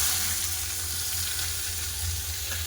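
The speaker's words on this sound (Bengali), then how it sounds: "লাল করে পেঁয়াজটাকে খুব ভালো করে লাল করে ভেজে নেবো" Onions and green chillies fry in oil tempered with cumin, bay leaf and asafoetida, giving a dense, continuous close sizzle with no pauses or voices.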